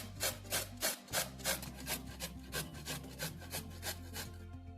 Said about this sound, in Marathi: इथे मी पाव किलो इतका कोबी घेतलेला आहे. आपण हा किसून घेणार आहोत.